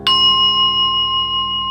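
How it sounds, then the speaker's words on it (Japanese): A phone notification ringtone: one bright electronic chime that strikes and then rings on as a steady, loud tone with no other sound around it. "今着信音来てたじゃん、めっちゃ鳴り響いてたじゃん"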